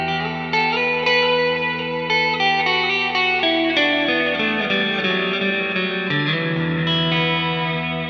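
Electric guitar played through a compact Headrush multi-effects unit with reverb added to a clean tone, chords and notes ringing out steadily and close with a lush, spacious tail.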